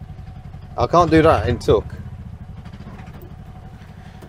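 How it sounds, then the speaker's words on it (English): A three-wheeled car's engine idles with a steady low throbbing pulse throughout, close and continuous, while someone speaks briefly over it near the start. "It sounds like you've got a proper meaty engine."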